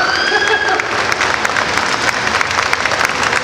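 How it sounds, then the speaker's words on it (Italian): Loud applause from an audience at Como Fun 2022, an Italian comics and animation event, with dense continuous clapping, a little cheering and crowd noise throughout. "Un grande applauso, ragazzi."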